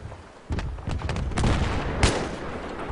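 Gunfire in Battlefield 3 multiplayer: a string of sharp, loud shots starting abruptly, several quick reports in irregular bursts with one prominent crack near the end, no talk.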